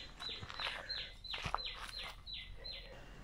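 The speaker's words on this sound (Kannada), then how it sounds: "ನಮಗೆ ಈ ದಾರಿ ಉದ್ದಕ್ಕೂ ಈ ಪಕ್ಷಿಗಳ ಶಬ್ದ ಕೇಳಿಸ್ತಾನೆ ಇರುತ್ತೆ" Several birds call along a forest trek trail on Narasimha Swamy Betta near Bangalore, with repeated high chirps and short whistles coming in quick bursts at moderate distance, no voices over them.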